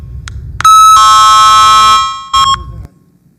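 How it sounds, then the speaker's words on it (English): Electronic buzzer timer at a town board public meeting sounds loud and steady for about a second and a half, then gives a second short burst, with faint room noise around it. "That's the timer"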